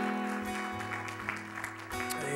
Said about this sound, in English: give the Lord a hand clap of praise tonight